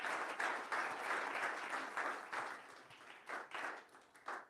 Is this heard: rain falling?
no